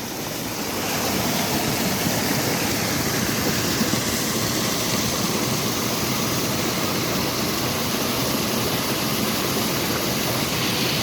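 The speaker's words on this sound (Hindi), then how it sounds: "ये देखें यहाँ से इसका पानी जो है वो निकल रहा है।" Water pours out from a dam near Naran in a loud, continuous roaring rush, steady from start to finish with no talking.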